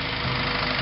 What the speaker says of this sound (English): I know the engine don't sound good, but just to show you the principle, we're on coil on plug